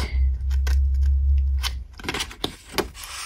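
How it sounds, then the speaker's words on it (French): Scissors snipping around the edges of a gold Christmas ring decoration made of paper, a few crisp separate cuts after a low rumbling start. "on finit donc de découper nos bords ici"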